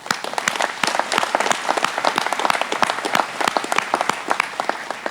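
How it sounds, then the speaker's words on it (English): A community annual meeting audience gives a quick round of applause: many hands clap in a brisk, dense patter that holds steady for several seconds, fairly close and moderately loud, with no talking over it. "And I'd like a quick round of applause for them."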